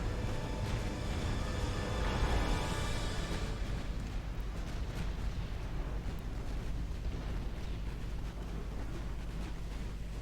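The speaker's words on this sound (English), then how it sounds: "I don't think I've seen that many battleships sink that quickly before." Battleships explode and sink in Ultimate Admiral Dreadnoughts. A heavy, roaring blast peaks early and then fades into a long, low, rumbling wash with no talk.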